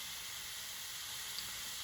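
Water comes toward a boil inside a can cooker, giving off a soft, continuous high hiss of steam that holds fairly even throughout.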